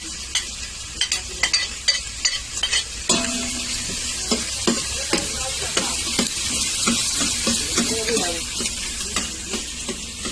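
Sisig with onions frying in a pan, a loud close sizzle with repeated sharp scrapes and taps of a utensil as it is stirred, building to a denser hiss midway.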